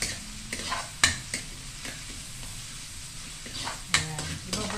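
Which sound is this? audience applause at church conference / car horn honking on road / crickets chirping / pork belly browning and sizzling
pork belly browning and sizzling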